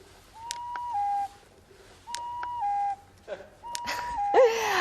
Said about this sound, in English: First one I've heard this year, that is the cuckoo.